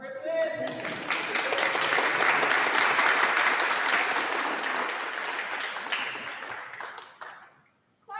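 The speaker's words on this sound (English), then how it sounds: "Clap" Congregation applauding at a Sunday worship service, a dense, sustained wash of clapping from many hands that holds steady for about seven seconds, then fades out abruptly before a short return at the very end.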